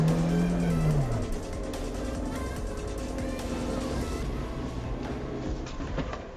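A 2020 Suzuki Jimny 1.5 GLX in low range climbing steep loose sand, its engine droning loud and close with a falling rev note at the start, then a steady strained roar and grinding tyre noise.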